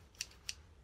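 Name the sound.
scissors cutting grass paper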